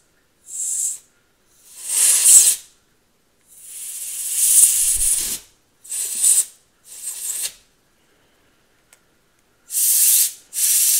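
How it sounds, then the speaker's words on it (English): Canned air sprays into a lighter's flint tube in repeated sharp hissing bursts of varying length, separated by silent gaps, close and loud. "Get our canned air here again."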